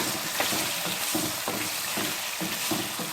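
Cut potatoes fry in a pan with tomato puree, sizzling steadily while a spoon stirs in a light repeated rhythm, close and with no talking.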